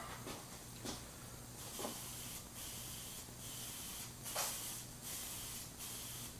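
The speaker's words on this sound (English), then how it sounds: "let's spray it on." Several short hissing bursts from a spray can of super chrome, spaced irregularly, faint and close, with a low hum underneath.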